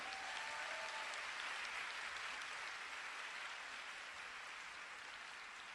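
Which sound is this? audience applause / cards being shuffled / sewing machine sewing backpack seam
audience applause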